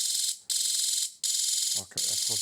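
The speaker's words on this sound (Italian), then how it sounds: "Pensavo che questo cicalino non si sentisse, infatti avevo pensato di montare un altoparlante, ma funziona benissimo." A piezo buzzer in a DIY music box circuit built from a cheap kit blares a loud, harsh high-pitched tone in three long bursts with short gaps, and a brief lower warble appears near the end.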